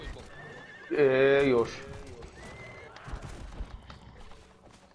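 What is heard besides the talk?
horse neighing and hooves in the video game Conan Exiles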